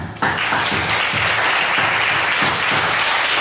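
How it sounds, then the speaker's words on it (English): Steady, loud applause from a crowd at a city council meeting, clapping continuously throughout after a brief quiet start. "You should all give yourself a round of applause right now."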